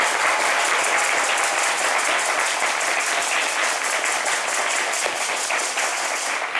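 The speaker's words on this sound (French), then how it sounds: "Ils peuvent encore s'applaudir." Studio audience applause on a TV sports show: continuous, even clapping from many hands fills the whole stretch at a steady, bright level, with no speech standing out.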